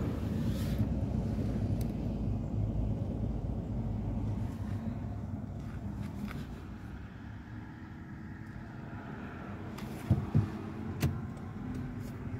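A car drives through a new-build housing development in Palm Coast, giving a steady low rumble of road and engine noise with some wind buffeting on the microphone and a few brief knocks near the end.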